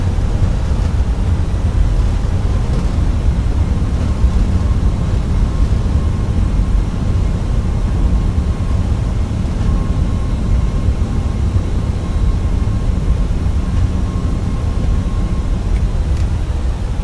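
An A340-600 airliner roars in reverse thrust after landing in Microsoft Flight Simulator 2024, a loud, steady, broadband engine rush that holds without letup.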